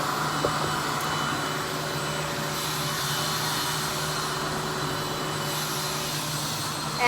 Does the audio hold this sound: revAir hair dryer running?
yes